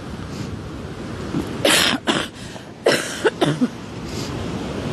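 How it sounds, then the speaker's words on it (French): Several short, harsh coughs in a couple of bursts, close by, over a steady rush of wind and surf on the Mediterranean coast. "j'ai encore ma toux"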